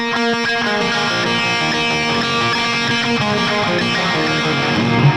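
A distorted electric guitar plays a dense, smeared riff with a delay effect, repeating echoes piling up into a continuous wash of sound.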